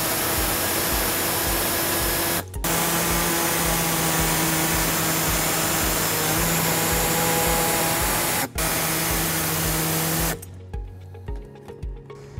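Cutting a rectangular opening in the plastic underbody liner of a 2013 Honda CR-V with a loud, steady power cutting tool that whines continuously, breaks off briefly twice, then stops and gives way to a few softer handling sounds.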